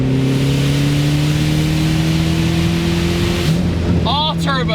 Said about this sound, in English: Rumble on that upshift.